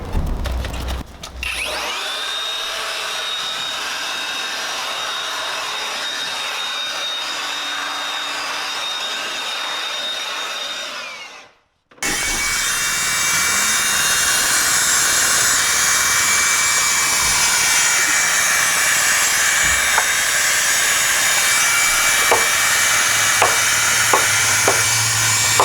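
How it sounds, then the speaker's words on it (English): A blower runs in two stretches, a steady whining roar near the microphone that cuts out briefly around the middle and then restarts louder with a broader rushing hiss, faint knocks mixed in. "get our blower"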